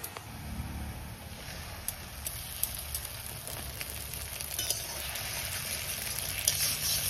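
Tomato paste fries with browned onion and chicken in a pan, a faint, steady sizzle and crackle with small pops throughout.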